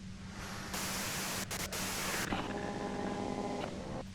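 Loud broadband white-noise static from the video game Disco Elysium, a steady hiss that surges louder and stays harsh and constant throughout, with faint tonal hum lines beneath and no talking.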